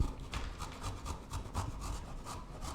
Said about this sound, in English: So I'm gonna grate this ginger so that the flavor disperses more evenly.